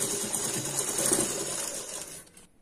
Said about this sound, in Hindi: वहां तक हमें इसे स्टिच करना है